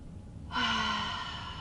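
A person drawing in a deep breath during a guided breathing exercise, a single breathy inhale that starts suddenly after a quiet moment and holds steady, close and clear.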